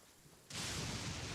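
Thunder crack from a lightning bolt striking in a video game quest, arriving as a sudden loud broadband burst after quiet, then sustained rumbling roar to the end.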